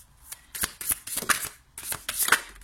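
Tarot cards are shuffled by hand before a reading, a series of close, crisp riffling bursts with short pauses between them and no talking.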